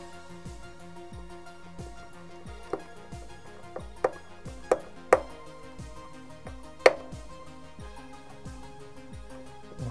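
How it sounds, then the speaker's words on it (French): A screwdriver drives the first screw into the right wing assembly of a K.I.T.T. model kit, making a steady run of small close clicks and ticks with a few sharper taps against the plastic. "Et on va venir serrer la première vis."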